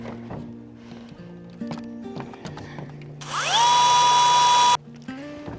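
A drill bores into clear corrugated panels on a chicken coop, one sharp rising whine lasting about a second and a half amid scattered knocks and handling clatter.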